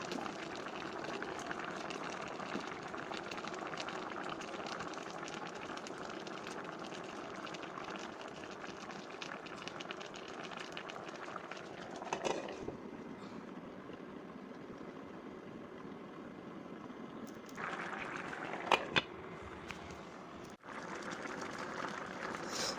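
A covered pot of potato and katla fish curry simmers with a soft, steady bubbling hiss, quiet and continuous, joined late by a few light clinks and a brief shift in the bubbling.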